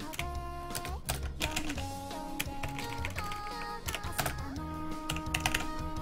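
Keys clatter steadily on a computer keyboard as it is switched to Japanese input, the quick taps mixed with background music playing throughout.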